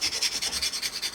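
Sanding sponge rubbing a plastic part of a Tamiya 1/32 F-16CJ model kit, about ten quick, even back-and-forth rasping strokes, close and steady with no talking.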